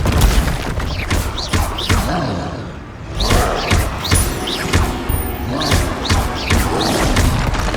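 Blasting-spell explosions in Hogwarts Legacy burst repeatedly during a spell duel, a string of loud, close booms and thuds mixed with other spell impacts and combat noise.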